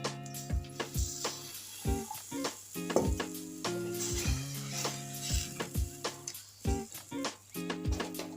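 Tamarind curry sizzling and bubbling in a pan in a home kitchen, with close clinks and scrapes of a spoon stirring against the vessel in an irregular rhythm over a steady hiss.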